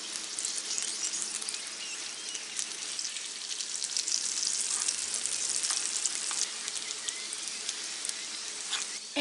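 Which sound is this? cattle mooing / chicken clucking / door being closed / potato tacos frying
potato tacos frying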